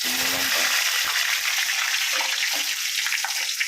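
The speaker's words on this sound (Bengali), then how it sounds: "পাঁচ ফোড়ন দেওয়া হচ্ছে তেলে তেলে পাঁচ ফোড়ন দেওয়া হলো" Panch phoron spices sizzle in hot oil while khichuri is being cooked, a steady, dense hiss that continues for the whole stretch with faint background sounds.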